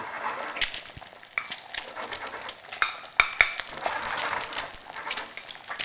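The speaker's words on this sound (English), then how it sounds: "we'll use a spoon to baste it a bit with some oil" Tocino fries in oil while a spoon bastes it, giving a lively crackling sizzle with frequent metallic taps and scrapes of the spoon against the pan.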